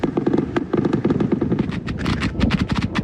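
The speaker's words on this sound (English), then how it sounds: "reports of approaching tanks and gunfire from the air" Rapid bursts of automatic gunfire crackle continuously, loud and sharp, with repeated volleys overlapping across the whole stretch.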